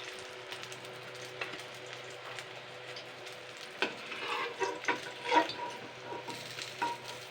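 Ash gourd fritters (bora) in batter frying in hot oil, a moderate bubbling sizzle with a few clinks and louder bursts toward the end, no speech.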